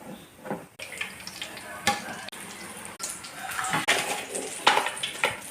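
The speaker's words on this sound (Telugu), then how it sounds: "బజ్జీలు వేసుకుందాం నూనెలో" Chilli bajjis, battered green chillies dropped into hot oil, giving a soft, steady sizzle and bubbling with scattered crackles and clinks, faint and close.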